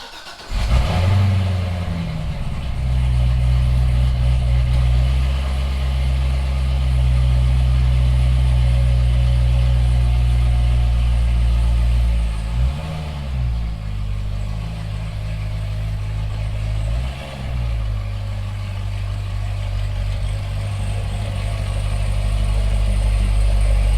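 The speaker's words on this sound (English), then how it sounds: "We'll start this thing up and pull it out." A car engine cranks and catches, then settles into a steady low idle with a couple of brief blips in revs, heard up close and alone for the full stretch.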